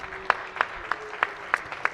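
Applause on a state Senate floor for page Sydney Asan, heard as a steady series of evenly spaced, moderately loud claps.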